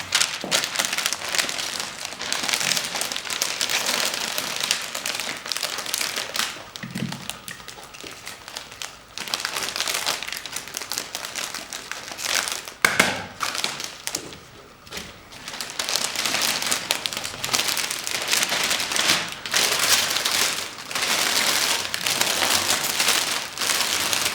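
Plastic foil is folded inward around a heart-shaped rose arrangement and gives dense, continuous crinkling and rustling up close, with brief pauses, while no one speaks.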